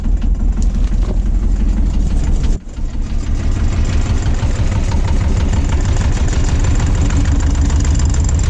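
A boat engine idles close by in a steady, loud, low knocking chug that stays even apart from a brief dip partway through, with no voices.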